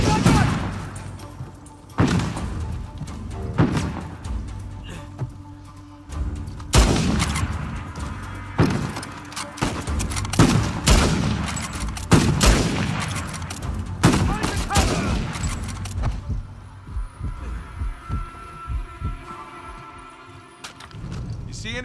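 Gunfire in Uncharted 4: A Thief's End during a shootout in a town, with shotgun blasts. Loud, repeated booming shots arrive in irregular bursts, mixed with game voices shouting.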